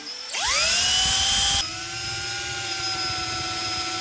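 A power drill boring into a broken bolt spins up with a rising whine, loud and close, then settles into a steady high-pitched drone that keeps running.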